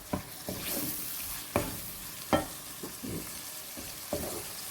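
Cherry tomatoes softening in spice masala in a pan, a low sizzle under repeated spoon scrapes and knocks spaced about every half second to a second, close by.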